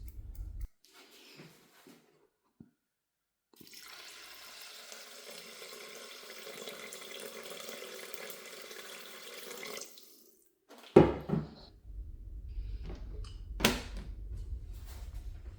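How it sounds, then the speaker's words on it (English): Tap water runs steadily for about seven seconds into a rice cooker pan, filling it to the line for 500 grams of rice, with brief clatters of handling before and after the pour. "I'll then add the water to the fill line for the 500 grams of rice."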